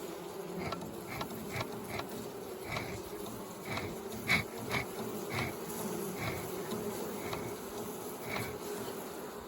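Honey bees drone steadily around an apiary hive where a stray queen has entered, a dense continuous buzz with brief louder passes of single insects close by; no talking.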